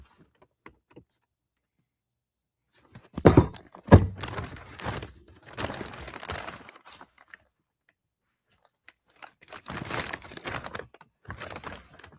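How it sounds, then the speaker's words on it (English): Heavy, hollow thuds strike a fence, a cluster of loud bangs followed by scattered rattling knocks, with quiet gaps between bursts outdoors. "Shirley, stop banging on the fence"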